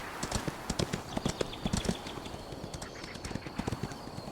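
Horse hooves clip-clop across an open field in the Horse Tales: Emerald Valley Ranch video game, a quick, steady run of close, crisp hoofbeats throughout with no talk.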